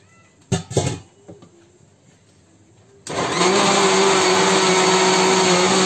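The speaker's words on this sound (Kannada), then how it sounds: "ಫೈನಲ್ಲಾಗಿ ರುಬ್ಕೊಂಡಿದ್ದಾಯ್ತು" A kitchen mixer grinder jar grinds ingredients for breakfast, starting abruptly partway through and running loud and steady, preceded by a few short cat-like cries in a quiet room.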